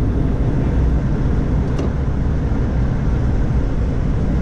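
A vehicle turns off onto a narrow gravel road near Jamesport, Missouri, heading to a bridge-building job site; its engine rumbles steadily and close with constant low road and tire noise, with no talking.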